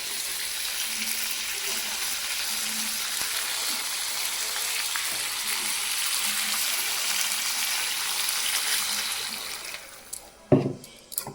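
Water poured into a hot frying pan during home cooking, a loud steady hissing sizzle that holds for about ten seconds, then tapers off into a few clanks and knocks.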